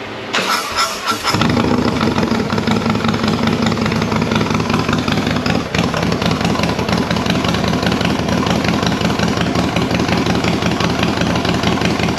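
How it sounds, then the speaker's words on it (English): A motorcycle fitted with an S&S 540C cam cranks over and fires up, then settles into a loud, steady, lumpy idle that runs close to the mic for the rest of the clip. "getting ready to start the bike up"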